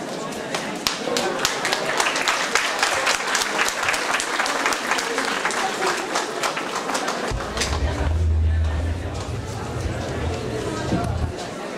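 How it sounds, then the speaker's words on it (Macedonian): An audience at a women's ethnic cooking contest in Ilinden municipality claps steadily and densely for the participants, a sustained round of applause with a low rumble joining partway through. "Еден аплауз и за учесничките од масата број 2"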